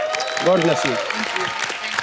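A studio audience at The Kapil Sharma Show breaks into applause, a broad wash of clapping running under someone speaking for about two seconds.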